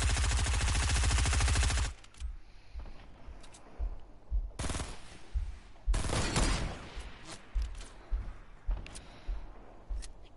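Rapid automatic gunfire from a shooter video game rattles loudly for about two seconds, then gives way to scattered single shots and bursts amid game noise, with further louder volleys near the middle.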